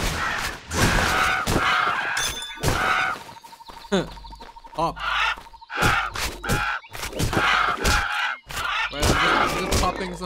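Birds squawk in the video game Titan Quest, a run of loud, honking bursts broken by short pauses and mixed with other game sounds, while a player speaks briefly.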